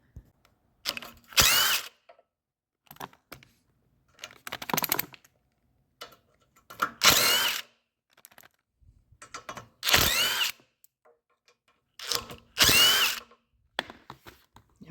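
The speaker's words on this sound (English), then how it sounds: "we're going to take these 4 bolts out for this valve cover" Power tool backing out four valve cover bolts on a leaking Honda GX160 small engine, heard as four separate loud whirring bursts spaced a few seconds apart, with quiet handling clicks between them and no talking.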